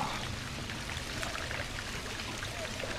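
Wading through water in The Last of Us video game, a continuous sloshing, pouring splash that runs steadily throughout without talk.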